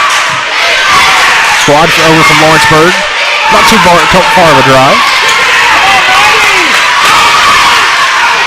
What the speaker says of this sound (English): A very good crowd from both Richland and the E.O.